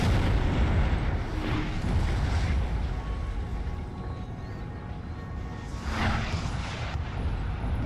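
Booming cannon fire from Napoleonic-era artillery in the strategy game Napoleon: Total War, heavy low rumbling volleys rolling continuously with a louder burst near the end, under a dense battlefield din.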